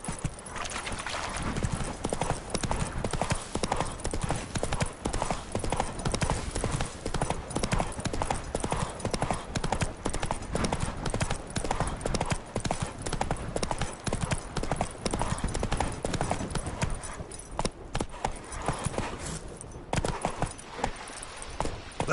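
Horse hooves gallop in The Witcher 3, a dense, fast, continuous clip-clop that stays loud and close for the whole stretch, with a faint whinny showing up now and then.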